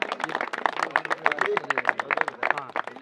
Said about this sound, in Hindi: इस बड़े फाइनल में उपविजेता रहने के तौर पर जोरदार तालियां